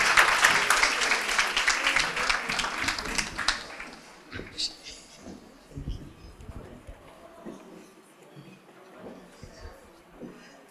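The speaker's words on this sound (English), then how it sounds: "Please give Mrs. Zakias a warm round of applause." An audience at a women's mentoring program event applauds for a board trustee, the clapping loud at first and then thinning out into scattered claps and room noise.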